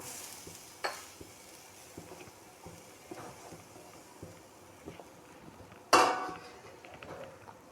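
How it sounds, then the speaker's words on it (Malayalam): Ingredients for a homestyle Kerala fish curry gravy fry in a pan with a low, steady sizzle. Scattered utensil clinks punctuate it, and one louder scrape comes near the end. "നമുക്ക് ഇതൊന്ന് വറുത്തെടുക്കണം."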